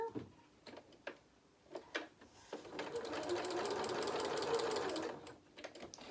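Sewing machine stitching in short bursts around a curve with pivoting and a small seam allowance, then one longer steady run. A mechanical ticking whir sounds close, with pauses between runs and no talk.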